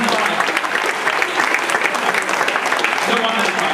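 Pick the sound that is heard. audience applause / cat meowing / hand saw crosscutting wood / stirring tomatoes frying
audience applause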